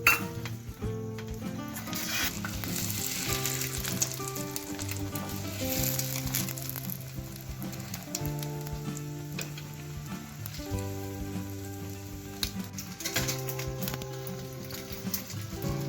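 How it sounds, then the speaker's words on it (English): Beaten egg omelette mixture with green chilli cooks in a hot pan with a soft continuous sizzle beneath steady background music, with an occasional faint utensil clink. "Cook this mixture of egg for about 2 to 3 minutes until the bottom is golden brown"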